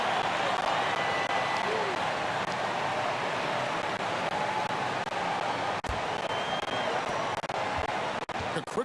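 Dense, steady arena crowd roar from an NBA 2K22 basketball game between the Houston Rockets and Utah Jazz, a loud continuous wash of cheering and murmur with a few sharp thuds.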